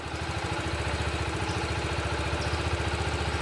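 A motorcycle engine idles steadily close by in a basic riding lesson, its throbbing putter even and continuous as the rider eases off briefly with clutch and throttle and stops, no voices over it.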